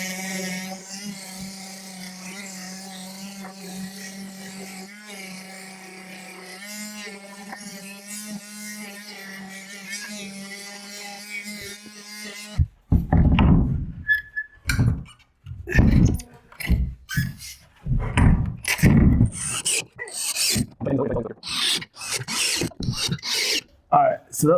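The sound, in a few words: power sander sanding wooden climbing wall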